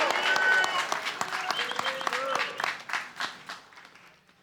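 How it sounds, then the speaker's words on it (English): Gala crowd at a hip-hop hall of fame induction applauds a fashion director, a burst of clapping that starts full and gradually thins and fades away, with a voice briefly calling out over it. "Let's give him a big round of applause."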